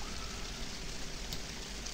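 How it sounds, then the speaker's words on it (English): Steady rain falls as a soft, continuous hiss with no voices over it. "It's raining."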